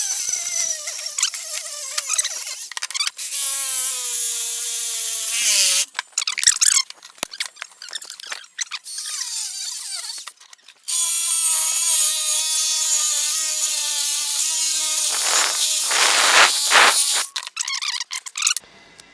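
Power tool cutting the turbo flange off a Mitsubishi Evo downpipe: shrill, squealing metal cutting in several loud bursts with short pauses between them, close and harsh throughout.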